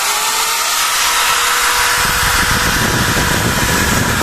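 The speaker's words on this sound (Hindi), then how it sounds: "रिवर्स ऑप्शन पे दोनों को करते हैं और इस ड्रिल मशीन को बाहर निकालते हैं दोनों को।" Two IBELL drill machines, a hammer drill and an ED06-91, run in reverse as they back out of a brick. Their motors whine loudly and harshly in a steady roar that builds partway through.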